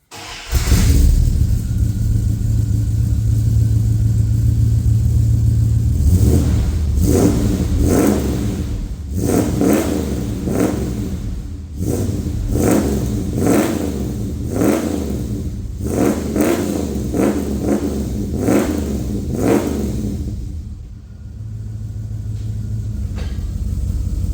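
A Ram truck engine cranks and starts, then settles into a loud, steady, deep rumble. It revs several times as the truck pulls away, the sound close and continuous with no talking.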